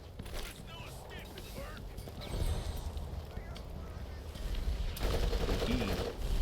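Grenade blasts and rapid gunfire in the video game Borderlands, a dense run of bursts and crackling that grows louder and busier toward the end, mixed with game sounds.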